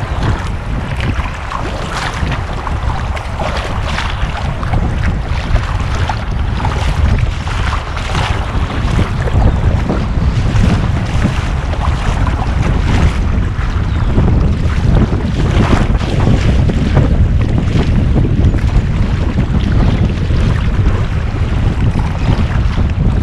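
Paddling an Eddyline Skylark kayak on the Delaware River: steady water swish and rushing under strong, constant wind noise across the microphone, with no talking throughout.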